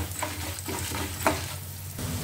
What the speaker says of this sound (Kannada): ಹಾಕ್ಕೊಂಡು ಇದು ಕೂಡ ಎಣ್ಣೆ ಒಳಗೆ ಸ್ವಲ್ಪ ಚಲೋ ತಂಗ ಫ್ರೈ ಆಗಬೇಕು